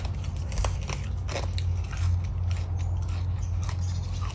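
Crisp bites and crunchy chewing of stink bean (sator) salad with fresh shrimp, close and repeated, with sharp cracking bursts over a low steady background.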